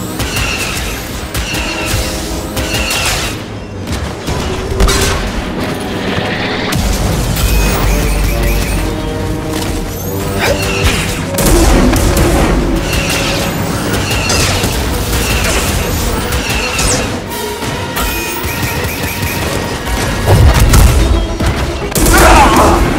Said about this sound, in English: We've got a walker firing on us, and our weapons are down.